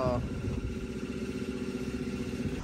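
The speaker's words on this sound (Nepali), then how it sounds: "मेरो बाइकको टेस्ट राइड हुँदैछ" A Honda XR190L motorcycle runs on a test ride after repair work on a knocking 'dhak dhak' engine noise, its single-cylinder engine throbbing in a steady low chug, moderately close and fairly quiet.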